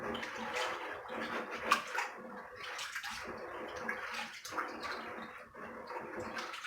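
Dry beans being rinsed and swished around in water while being prepared for pressure canning, giving a steady close sloshing and trickling with small splashes throughout, no talking.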